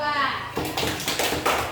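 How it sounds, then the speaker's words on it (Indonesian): Classroom children clap for a group after a lesson on cubes, a short burst of scattered hand claps and taps under children's chatter, fairly close and lively. "tepuk tangan untuk kelompok 2"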